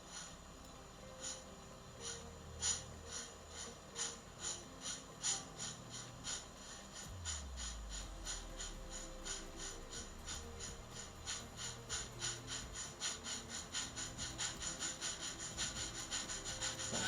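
A DCC sound decoder in a model A4 locomotive running a Locoman Sounds file plays a rhythmic chuffing exhaust that starts slow and speeds up, with a rising mechanical hum underneath, steady and fairly quiet.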